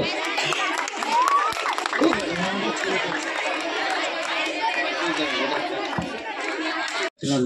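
Applause from a crowd at a school sports meet's closing prize ceremony, as a kho-kho second prize is announced. Dense, steady clapping mixes with chatter for about seven seconds before briefly dropping out.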